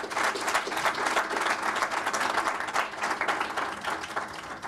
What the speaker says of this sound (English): I just want to give an applause to the 13 students who pulled this off.